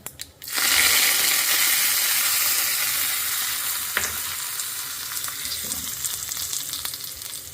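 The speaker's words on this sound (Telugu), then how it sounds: "పోపు వేస్తున్నా" Spices tempered in hot oil for a coconut curd chutney hiss loudly as they hit the pan, a close, dense sizzle that slowly settles with faint pops and crackles.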